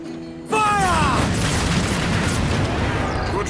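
Heavy-shot cannon fire from a sailing warship in Assassin's Creed Black Flag, a sudden loud boom that opens into a long rumbling roar, with falling whistling tones over it and no talking.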